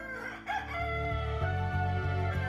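A cartoon rooster crows loudly in a long drawn-out cock-a-doodle-doo, a single call that stretches across the moment with a sustained tonal quality.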